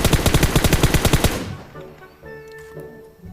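Rapid automatic gunfire in the mobile battle royale game PUBG Mobile, a loud burst of evenly spaced shots for about a second and a half, then quieter game sounds and faint tones.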